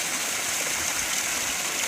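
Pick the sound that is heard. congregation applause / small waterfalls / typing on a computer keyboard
small waterfalls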